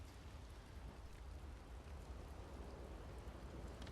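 Steady rain in the video game Clair Obscur: Expedition 33, a dense, even hiss of falling water that stays at a constant low level for several seconds with no voices over it.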